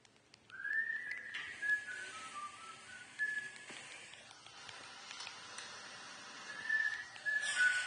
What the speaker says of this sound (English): my father's whistling